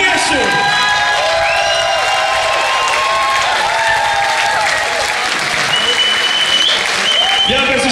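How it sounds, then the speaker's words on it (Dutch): A crowd at a city carnival celebration gives loud, continuous applause for Sjoerd I, the 76th carnival prince, with cheering and whoops mixed in while music and voices carry through the whole stretch. "En geef hem nog een geweldig applaus."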